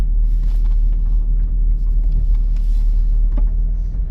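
Steady low rumble of a Dodge Grand Voyager minivan on a test drive with suspension trouble, heard from inside the cabin as a continuous road and engine drone with no talk.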